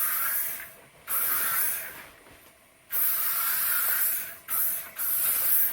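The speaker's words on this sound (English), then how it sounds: "we're just gonna spritz it with a little bit of hairspray to kind of hold some of those waves intact" Chi Vibes dual-mist hairspray misted onto wavy hair in several close, hissing bursts of different lengths, separated by short pauses, with no talking.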